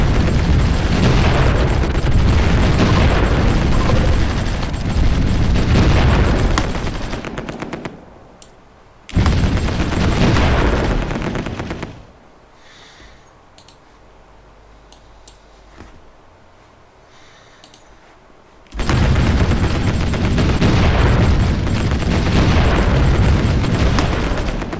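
Artillery fire and explosions in the strategy game Supreme Ruler Ultimate, with loud, dense bursts of booming blasts that run continuously, stop for a quieter stretch with scattered rumbles, then resume at full force.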